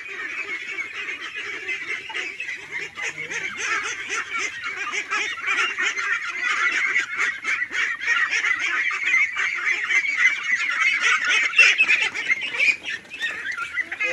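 A flock of 45-day-old ducks honking loudly and continuously, overlapping calls filling the whole stretch with no pauses.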